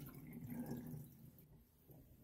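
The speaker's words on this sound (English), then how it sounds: "Water flowing and" Water runs from a kitchen tap just repaired with a replacement cartridge and O-ring, a faint, steady low splashing flow that continues without a break for the whole stretch.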